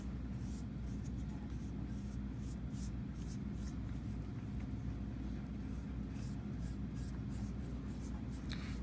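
Glaze brushed onto a ceramic project resting on white paper, heard as soft, scratchy brush strokes in quick, irregular bursts over a steady low room hum, with no talking.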